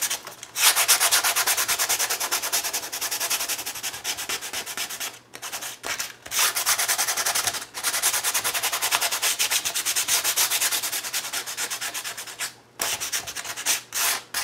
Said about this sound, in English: I'm gonna go in with some sandpaper now, and I'm just going to pick up the edges there and bring that texture up.